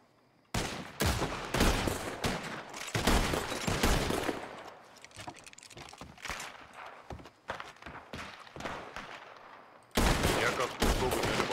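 A rapid volley of gunshots rings out in a Wild West sheriff scene, with a dense burst of loud, sharp cracks up front, scattered shots through the middle, then another heavy burst at the end.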